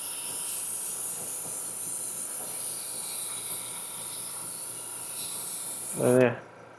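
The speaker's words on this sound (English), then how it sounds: "Spray it on. No. Really have to hit it hard." A steady, loud hiss of aerosol spray paint on a 3D-printed helmet runs throughout, with a brief low voice near the end.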